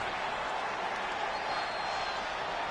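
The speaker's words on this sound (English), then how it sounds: "And now here come the Iconics, pouring it on in front of their home crowd." Crowd noise from the wrestling video game WWE 2K20, a steady wash of arena cheering and applause at moderate level with no clear breaks.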